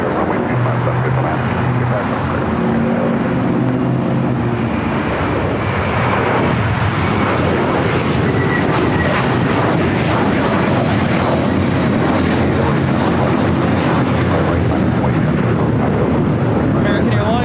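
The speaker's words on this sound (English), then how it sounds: "American Airlines 1024 taking off to Orlando on the A321" An American Airlines A321 jet takes off at LAX, its engines roaring loudly and steadily for the whole stretch with broadband rumble and wind buffeting.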